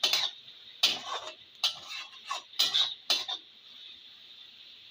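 Beef liver bhuna with turmeric and chili powder being stirred in a pan: rhythmic scraping strokes of a spoon against metal, about six close, clear passes in a steady pattern.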